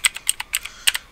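Short burst of about nine quick keystrokes on a computer keyboard, typing the ifconfig command, close and clear with no speech.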